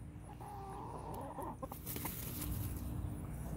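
Backyard chickens clucking and squawking, with a busy cluster of close calls that grows denser and louder toward the end.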